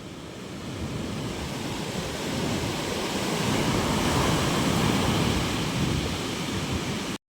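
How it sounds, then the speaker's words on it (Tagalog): Steady roar of sea waves washing onto the shore, swelling slightly louder midway, with wind across the microphone and no voices. "Ang lapit na ng dagat."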